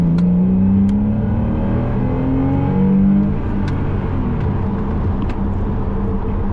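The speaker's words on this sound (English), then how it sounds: "you get that engine sound" A Porsche 986 engine revs loudly and close, rising and falling in pitch through several sweeps before settling into a steady, throaty rumble.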